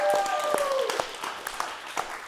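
Steady applause from an audience fills the clip, with scattered louder claps and a faint tonal whistle near the start.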